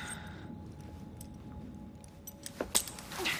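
Keys jangle in the video game Assassin's Creed Syndicate, a short metallic clatter of a few bright jingles near the end after a quiet stretch.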